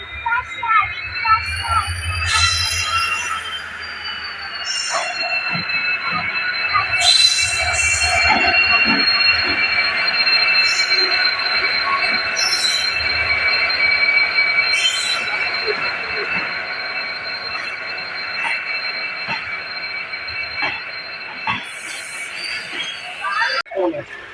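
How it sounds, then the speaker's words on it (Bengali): A local train pulls into a station in Goa in the evening, with a long, loud, high-pitched squeal of wheels on rails, rumbling and clanking underneath, and people talking faintly in the background. "ছটা কুড়ি ট্রেন এখন ঢুকছে"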